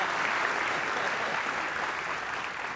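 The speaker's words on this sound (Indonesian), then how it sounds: "Oke, kita kasih tepuk tangan Gerindra se-clear itu." Studio audience applause on an Indonesian political talk show, a brief, even wash of many hands clapping that holds steady for under three seconds and tapers slightly at the end.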